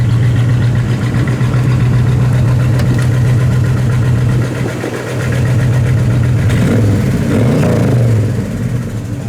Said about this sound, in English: That dual exhaust sounds really nice at an idle.